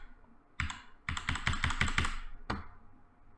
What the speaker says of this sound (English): anytime you can hear the key click